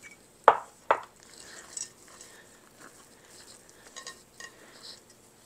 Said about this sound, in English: Okay, the final scrape with the big spatula.